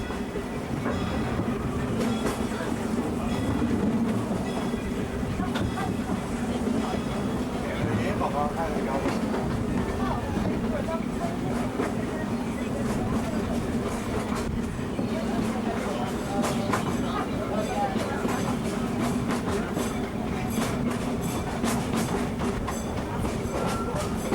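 A Disneyland Railroad train rumbles steadily along the rails with rhythmic clacking and a constant low roar throughout, with a voice talking over it.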